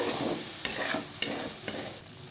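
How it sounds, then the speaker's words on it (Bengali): Spice paste with green chilli fries steadily in a pan for a ridge gourd and peanut dish, a continuous close sizzle broken by three sharp scrapes of a spoon stirring through it. "এবারে মশলাটাকে ভালো করে কষাতে দেব"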